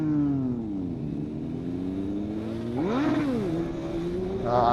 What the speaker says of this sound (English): We'll try and pop a wheelie here with big emphasis on try.